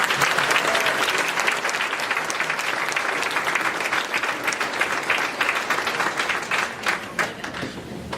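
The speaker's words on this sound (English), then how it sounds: "Can I please get a round of applause for Mrs. Irving?" An audience at an awards night applauds warmly, with thick, sustained clapping that holds strong for several seconds, then thins slightly toward the end.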